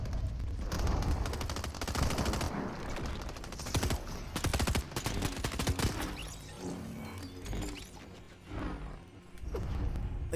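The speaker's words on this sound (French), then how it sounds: "il y a le bruit d'une arme que j'aime pas du tout" Weapon fire in the Fortnite video game, a dense burst of rapid shots with loud clustered cracks and whooshes, fairly close and continuous over busy game sound.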